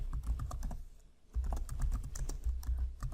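Typing on a computer keyboard: quick, close clicking keystrokes in uneven bursts with a short pause around the middle, then steady typing again.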